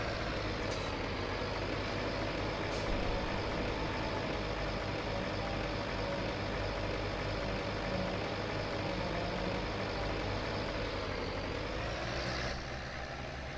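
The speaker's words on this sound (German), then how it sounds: "Futtermischwagen anschalten." Feed mixer wagon running in the farming game Landwirtschafts-Simulator 17, a steady droning engine hum throughout, close and constant, easing slightly at the end.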